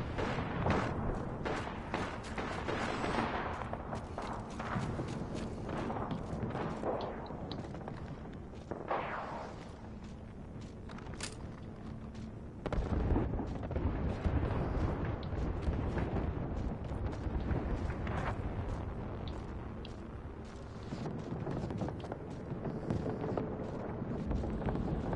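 Explosions and gunfire in the battle royale video game Apex Legends, dense bursts of blasts and crackling shots going off repeatedly across the whole stretch, loud and chaotic with no pauses.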